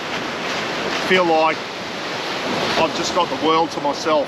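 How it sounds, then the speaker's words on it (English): Steady ocean surf crashing on a remote Australian beach forms a constant broad wash of noise with some wind buffeting, while someone speaks over it. "If you can hear waves in the background, they're crashing up on the beach"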